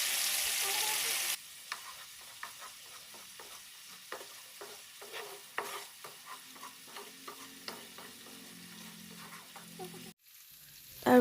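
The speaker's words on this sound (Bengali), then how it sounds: "মশলাটাকে ভালো করে কষাতে হবে" Spice paste and tomato paste frying in a pan, stirred with repeated scraping strokes over a soft steady sizzle, fairly close, with a louder hiss at the start and a sharp clatter near the end; no talking.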